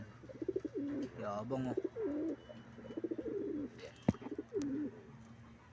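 Pigeons coo in repeated soft, throaty phrases inside a backyard loft, fairly close but modest in level, while someone speaks briefly in between.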